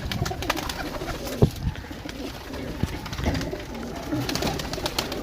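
Pigeons coo in low, repeated murmurs at a rooftop loft in Gujrat, with a few louder wing or perch knocks standing out against steady outdoor background noise.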